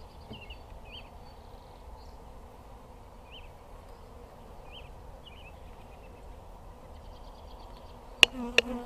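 Honey bees buzz softly around an open hive during a hive split, a steady low hum with a few brief louder passes and a knock near the end.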